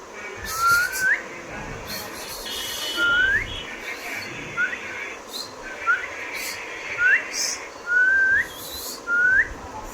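Someone whistles a series of short rising notes, about seven in a row, fairly close, over a noisy outdoor background with occasional voices.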